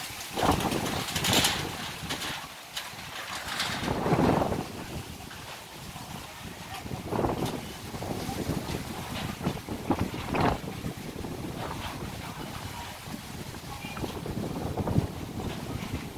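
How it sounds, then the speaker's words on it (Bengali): Cyclone-driven wind rushes loudly through trees with heavy microphone buffeting, gusts rising and falling in waves over a steady roar, no one speaking. "গাছপালায় প্রচুর বাতাস বাজছে।"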